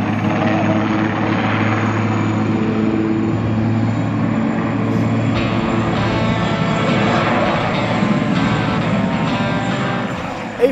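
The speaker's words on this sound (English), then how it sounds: "turn up the volume, because these engines were meant to raise your pulse rate" Historic propeller aircraft engines run at an air force museum flying day, including a restored SAAF Spitfire, giving a loud, steady droning roar with deep rumbling harmonics that holds throughout without a break.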